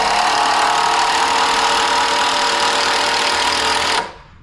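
A power driver sinks screws into a wooden garden box built from 4x4 lumber, giving one loud, continuous whirring run of about four seconds that stops abruptly, with no voices.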